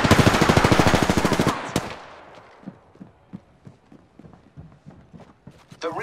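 Rapid automatic gunfire in a battle-royale shooter game, a dense loud burst of evenly spaced shots for about a second and a half, followed by a single sharp shot and then quieter scattered footsteps and thuds.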